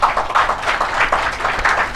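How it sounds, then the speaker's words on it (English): Audience applause welcoming a panel at an event celebrating German-Bangladesh relations, a short burst of crowd clapping, loud and continuous with uneven swells. "please welcome my extraordinary panel with applause"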